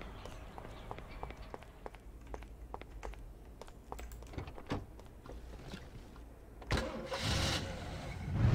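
A car engine starting in the 2001 video game Mafia: a run of rhythmic cranking ticks, then the engine catches and settles into a louder rumble near the end.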